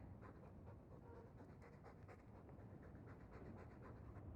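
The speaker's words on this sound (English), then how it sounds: "All that noisy dog breath, day in, day out, make him stop." A dog pants steadily and rapidly in Dragon Age 2, its breathy rhythm continuing throughout over a low ambient game background.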